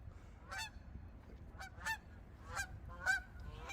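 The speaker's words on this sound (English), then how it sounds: "Oh, bird" A goose gives four distinct, evenly spaced honking calls at moderate distance over a low rumbling background. The calls are faint but clearly audible.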